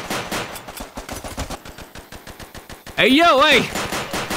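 Rapid gunfire in the VR shooter game Crisis VRigade 2: a steady rattle of repeated shots runs through the clip, with someone shouting loudly over it near the end.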